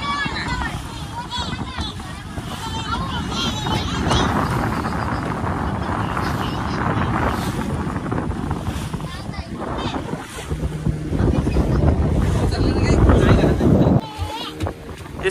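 Boat ride on the water in Goa, with engine rumble, wind buffeting the microphone and splashing waves throughout, while people talk over the noise.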